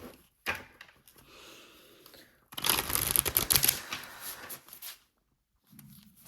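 A deck of tarot cards being shuffled by hand: quiet scattered taps, then a dense riffling clatter lasting about two seconds before it stops, with no talking.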